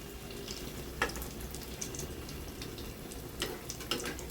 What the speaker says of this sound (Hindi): तो देखिए यहाँ पर साबूदाना बड़ा हम फ्राई कर रहे हैं।